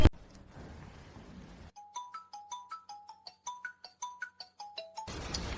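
A phone ringtone plays a bright repeating melody of chiming notes, about a dozen evenly spaced tones, clear and close, then cuts off as the call is answered and room noise returns.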